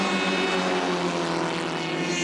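Pre-war Austin Seven race cars at a vintage sports car club race at Mallory Park, a loud, continuous engine drone with a buzzing, propeller-like tone as the cars pass close by.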